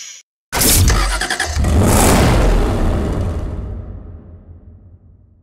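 A McLaren 12C engine in Need for Speed Hot Pursuit Remastered bursts in loudly after a brief silence, revs hard and high, then winds down and fades away.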